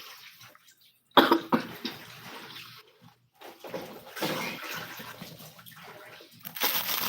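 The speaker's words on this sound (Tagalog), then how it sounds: "ang kati kasi ng lalamunan ko ba inuubo ako." A person coughs sharply and loudly once after near silence, followed by rough throat noises and watery background sounds, with talk around it.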